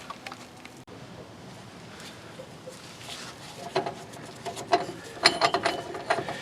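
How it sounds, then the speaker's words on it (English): A nut is spun off a Chevy rear axle during a wheel seal job: faint metallic ratcheting and light clicking clatter build over several seconds, close up and quiet. "Now we can spin that nut out freely."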